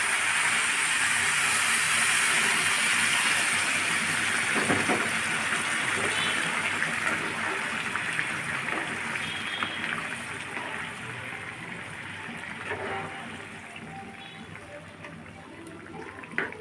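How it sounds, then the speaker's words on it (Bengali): Water is poured into a pot of shrimp pulao cooking on the stove, a loud rushing pour at first that gradually softens into bubbling and simmering, with faint background noise from a loudspeaker at a nearby puja. "এখন আমি পরিমাণ মতো জল দিয়ে দিব"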